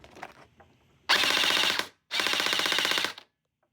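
A CYMA M4A1 V2 gel blaster fires two loud full-auto bursts of rapid, evenly spaced shots, each lasting about a second with a short gap between, after some faint handling noise at the start.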